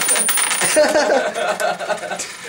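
Coins being pushed across a table and flipped, a busy run of close metallic clinks and slides lasting the whole moment with no talk over them.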